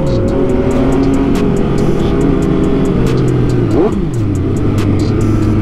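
A sport motorcycle engine, in a group with a Kawasaki ZX-10R, ZX-6R 636, Yamaha R6 and MV Agusta, revs loudly and steadily close by, with a sweeping pitch change near the end and a rider's voice partly under it.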